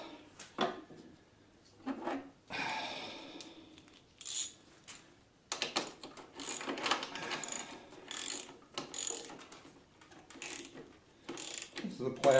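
A ratchet wrench tightening bolts on a plastic garage door opener bracket, with repeated bursts of rapid close clicking separated by short pauses.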